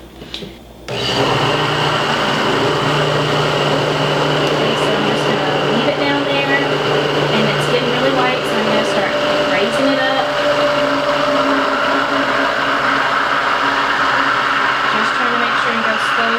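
An immersion blender runs on high speed through avocado oil mayonnaise, a loud, constant motor whine and churning whir that kicks in after a brief pause and holds steady.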